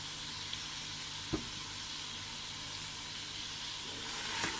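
Yogurt poured into a hot pan of Punjabi chicken yakhni pulao gives a steady, moderate sizzle and hiss with a couple of faint clinks over it, and no one speaks.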